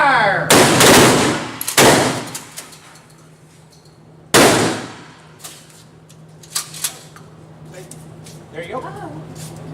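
Gunshots from a handgun at an indoor shooting range during zombie-target prep training, three sharp loud reports spaced a second or two apart with ringing decay, followed by metallic clinks and faint handling noises.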